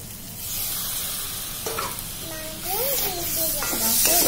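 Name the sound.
chicken meat sizzling as it is added to hot oil with red chili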